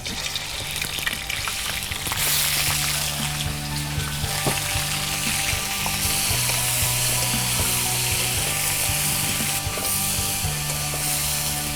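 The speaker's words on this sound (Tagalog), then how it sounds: "Sear lang natin yung ating duck." Duck sears in hot oil in a pan, giving a steady, loud sizzle and crackle that runs throughout, with faint clinks and a low mechanical whir underneath.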